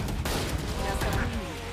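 Rapid gunfire from the Valorant video game crackles in dense bursts throughout a tournament match, loud and continuous beneath excited commentary.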